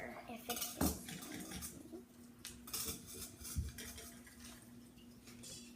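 Softened butter and vegetable shortening going into a mixing bowl for cupcake frosting, with scattered clinks and clatters of utensils against the bowl, one sharper knock early and quieter handling afterward.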